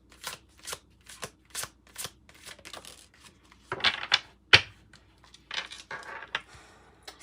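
Tarot cards are handled and shuffled in a series of crisp, papery riffles and slaps, close and fairly quiet, in irregular bursts separated by short pauses.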